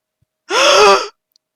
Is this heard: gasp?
yes